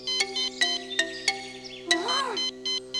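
A cartoon detector rings with a rapid electronic warble, repeated short bursts in a bright ringtone-like pattern, with a wavering tone near the middle, close and fairly loud.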